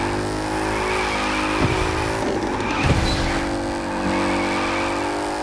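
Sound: car drifting with tire squeal in The Crew 2 video game

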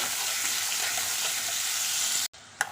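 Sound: chopped onions frying in a kadai

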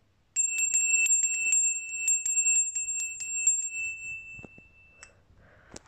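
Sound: small bell named Maria from Częstochowa ringing

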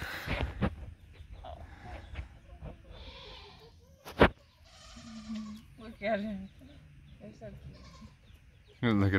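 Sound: goats bleating

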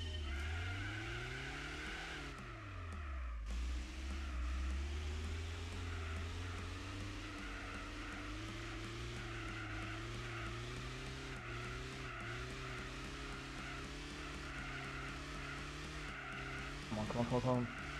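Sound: race car engine revving in video game Gran Turismo 4

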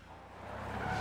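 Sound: moped driving, from the video game PUBG

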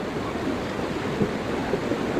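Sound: flooded river water rushing near a hanging bridge

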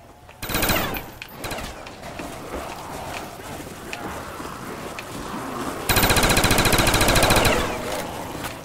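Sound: machine gun fire in Call of Duty Zombies video game

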